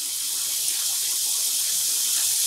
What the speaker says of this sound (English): I'm just adding cold water to my bowl here.